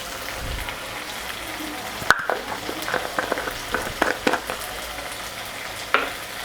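Tomatoes with ginger garlic paste and cream fry in oil, a soft continuous sizzle broken by scattered spoon scrapes and clicks as the mixture is stirred, close up and fairly quiet.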